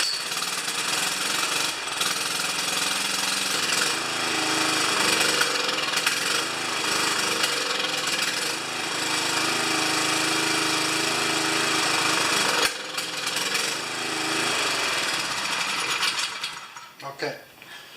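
A small gasoline pressure washer engine runs with the choke on, holding a loud, steady, buzzing drone close by. It falters near the end and then dies away.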